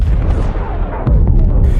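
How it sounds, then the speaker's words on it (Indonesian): A deep, rumbling blast with heavy low-end booms and crackling debris, loud and continuous, with a few sharper bursts near the end. "Nomad pun meledakkan lab tersebut"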